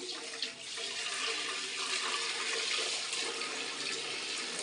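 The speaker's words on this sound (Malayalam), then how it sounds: "ഞാനിപ്പോൾ ഇതിലേക്ക് പാലും കൂടെ ഒഴിച്ചു കൊടുക്കുകയാണ്." Milk pours in a continuous, even stream into a pan for palada payasam, a steady splashing rush with no talk.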